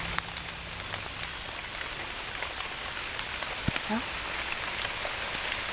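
Steady rain falls in a forest during wild mushroom foraging, a constant hiss of drops on surfaces close around, with a few brief thuds and a short voice near the middle.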